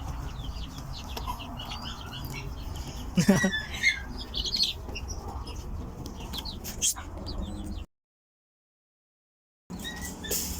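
Chickens and chicks cluck and chatter nearby amid rustling and a brief flap, with a short gap of silence before the noise resumes.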